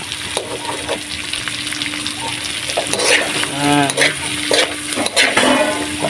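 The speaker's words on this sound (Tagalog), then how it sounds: "Ginisang opo, mga ka-team." Bottle gourd sautéing with ground meat in a hot pan, sizzling and frying with scraping stirs and utensil clinks against the pan, with brief voices in the background.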